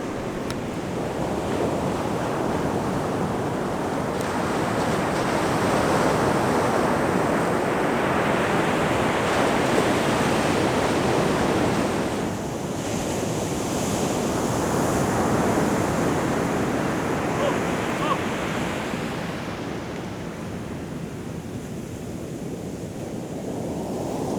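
Ocean surf rolls onto a beach in long, loud swells of breaking waves, with two broad surges over a continuous roar and wind buffeting the microphone.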